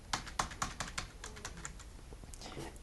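Computer keyboard keys are pressed for a copy shortcut, giving a quick run of sharp, close clicks followed by a few softer, scattered taps.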